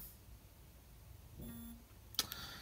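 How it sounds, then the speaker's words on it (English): First boot-up of a ZTE Axon 7 Mini phone: after near silence, a short electronic tone rises briefly, then a brighter chime-like burst with a sharp click, soft and close. "Let's go ahead and give this phone here its first boot up."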